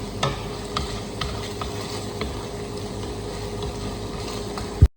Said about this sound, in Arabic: ومرة بجلس احرك فيه قليلي قليلي مع البصل بهذا الشكل